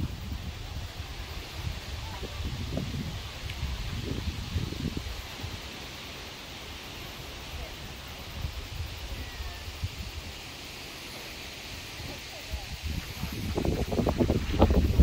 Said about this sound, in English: Sorry for that if it's windy and noisy